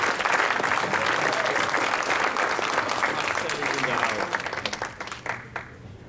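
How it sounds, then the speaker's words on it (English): Loud, dense applause and clapping from a comedy club audience welcoming a stand-up comedian to the stage, sustained throughout and thinning slightly toward the end. "Keep clapping."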